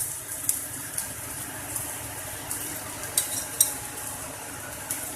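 Tomatoes lightly frying in a pan for a vegetable sandwich filling, with a soft steady sizzle and scattered scrapes and clinks of a spoon stirring against the pan, fairly close and without talk.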